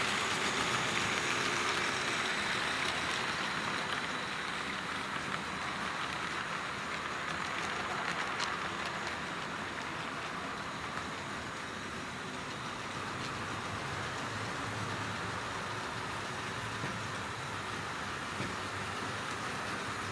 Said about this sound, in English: And here comes the Flying Scotsman.